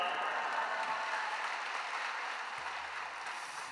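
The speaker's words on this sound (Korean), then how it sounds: "큰 박수로 맞이하겠습니다" Sustained applause from a large church congregation at an early-morning service, a dense wash of clapping that stays steady and full throughout.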